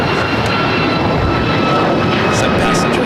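At LAX, a jet airliner roars loud and steady, with a constant high whine over a broad rumble and occasional crackling radio chatter on top.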